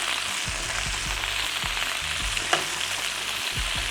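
Pieces of chicken for a Polynesian chicken curry casserole fry in a pan with a steady, close sizzle, broken by several soft low thumps and one sharp tap as pieces are moved.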